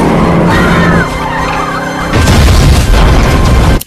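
A loud crash of a car slamming into a parked truck, with booming, crunching bursts and a skidding rumble that stays loud to the end.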